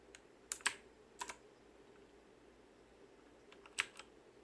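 Keystrokes on a Fuhlen G903S mechanical keyboard, heard as a few sharp clicks in two quick pairs near the start, another pair a little later and one more near the end, close and fairly quiet over a low steady hum.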